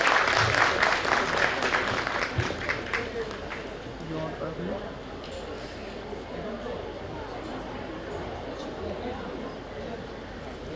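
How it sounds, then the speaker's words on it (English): A conference audience claps, a dense round of applause that is strongest at first and then settles into steady, softer clapping with some crowd chatter underneath. "Can we have a bigger round of applause"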